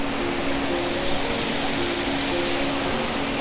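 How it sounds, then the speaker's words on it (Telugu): A small waterfall near the entrance to Malana village gives off a steady, loud rush of falling water that holds even for the whole stretch, with a faint tonal hum underneath and no voices. "ఇక్కడ ఒక చిన్న వాటర్ ఫాల్ ఉంది"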